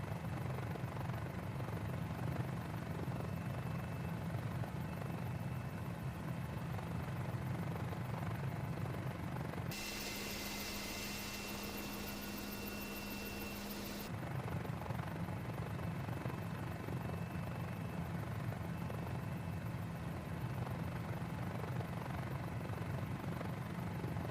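A Mini-500 single-seat helicopter fitted with a T-26 conversion kit flies with a steady, throbbing rotor and engine drone that holds throughout, its tone shifting briefly midway before settling back.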